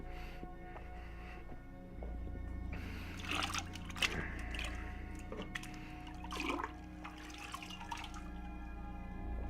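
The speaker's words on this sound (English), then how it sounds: "we gotta get some more water" Water runs and splashes as more is fetched during a pottery demonstration, a trickling, gurgling flow over a constant low hum.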